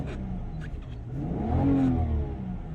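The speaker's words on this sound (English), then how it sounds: "If I give the car a quick rev," A warm 2000 Lexus IS200 SE automatic gets a single quick rev, the engine note climbing smoothly from idle and easing back down, heard up close with no voices.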